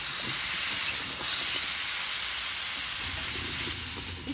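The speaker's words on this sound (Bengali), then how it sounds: "তাই আমিও ভালো করে ভেজে নিচ্ছি।" Elephant foot yam (mete alu) pieces frying in hot oil with salt and turmeric in a pan: a dense, continuous close sizzle and hiss that stays steady and fairly loud throughout, with no voices.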